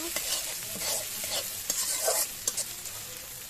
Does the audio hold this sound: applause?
no